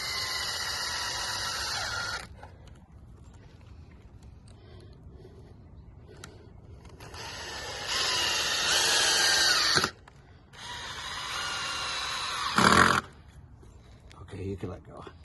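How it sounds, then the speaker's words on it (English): A power drill drives pocket screws into the wooden sides of a raised garden bed, giving three loud, close whirring bursts of a few seconds each with quieter gaps between them. "Now we're attaching the pocket screws"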